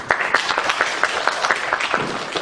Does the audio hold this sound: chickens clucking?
no